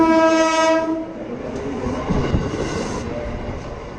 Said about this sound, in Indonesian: Untuk yang sering naik kereta api, pasti akrab dengan suara tersebut.